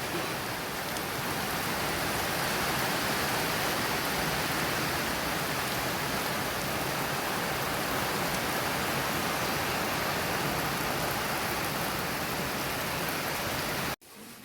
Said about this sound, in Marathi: बघा कसा पाऊस आहे